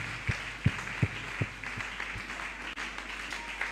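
A church congregation claps while acclaiming Jesus, with a few distinct hand claps early on, then thinner scattered clapping under a steady murmur of the crowd.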